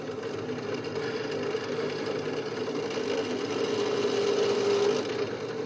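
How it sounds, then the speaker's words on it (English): Countersink cutter working holes in RV-7 tie-down spacers for nut plates, a steady, even whirring drone of a power tool running continuously at moderate loudness, with no pauses. "Gonna go ahead and countersink the holes for all the nut plates"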